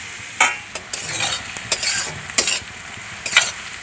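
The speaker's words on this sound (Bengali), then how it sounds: "পেঁয়াজটা একটু হালকা লাল করে ভেজে নেব।" Sliced onions fry in hot oil in a pan until lightly browned, with a steady sizzle and repeated scrapes of a stirring utensil, close up and with no voice.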